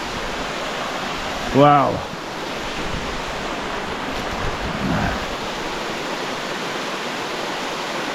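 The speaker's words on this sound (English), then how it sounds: "The waterfall is going into McCraney Lake." Steady broadband rush of a waterfall pouring into McCraney Lake, a constant wash of falling water heard close and loud, with a brief exclaiming voice over it.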